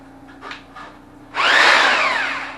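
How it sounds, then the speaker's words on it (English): A masonry drill bores a hole, its whining motor spinning up suddenly after a second of quiet and then grinding loudly and close for about a second before easing off slightly. "I'm going to use a mason drill, and drill some holes"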